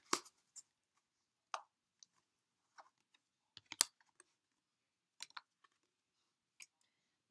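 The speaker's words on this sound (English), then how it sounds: "Cut the deck." A tarot deck is cut by hand, giving a few soft, scattered taps and clicks of cards against each other in an otherwise quiet room.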